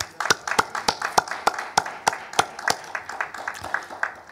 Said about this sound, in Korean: 우리 만민에서 함께 크게 하나님께 영광의 박수를 드립니다